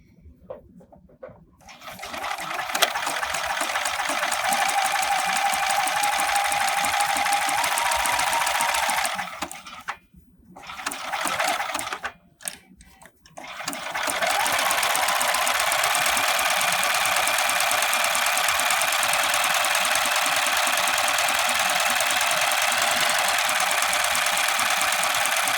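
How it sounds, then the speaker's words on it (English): Domestic sewing machine running a lightning stretch stitch on knit bands, a close, steady whirring hum that runs continuously, briefly stops and restarts twice, then carries on evenly to the end. "I have my machine set to a lightning stitch"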